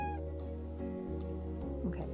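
A cat meowing in the cozy cat café video game Calico, a short tonal meow near the end over steady background game music.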